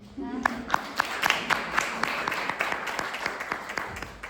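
Audience applause before a university lecture begins, a steady patter of many hands clapping with a few louder nearby claps standing out, low murmuring beneath.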